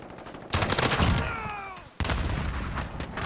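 Rapid automatic fire from a Holger machine gun in the Modern Warfare video game, two loud dense bursts of shots with a short break between them, a whining tone sweeping down beneath the first burst.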